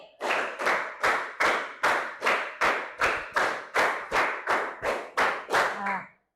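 Twelve or so sharp group claps ring out in an even counted rhythm as a class follows a clapping pattern during a teacher training lesson, near and loud with no talking over them.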